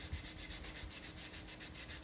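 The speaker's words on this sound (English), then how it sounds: "sanding pad." A sanding pad rubs back and forth over a metal ladle, a quiet, close, rhythmic scrubbing with even strokes about four per second.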